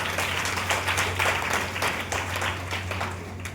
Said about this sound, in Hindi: बड़ी संख्या है, जोरदार ताली सबके लिए होनी चाहिए।